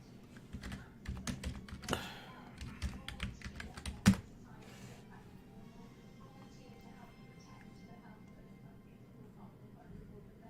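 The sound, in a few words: typing on a computer keyboard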